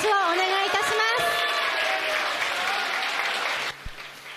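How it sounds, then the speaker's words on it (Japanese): A crowd claps steadily at the award ceremony for a GI speed race at the Hamamatsu Auto Race track. The applause is loud and sustained under a voice, then cuts off near the end. "大きな拍手をお願いいたします。"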